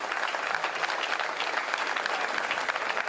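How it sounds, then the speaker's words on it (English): Cheers and applause from a crowd at Conservative Party headquarters in London, greeting a new prime minister; a dense, steady roar of clapping runs loud and close throughout. "Sunak was greeted with cheers and applause at the Conservative Party headquarters in London"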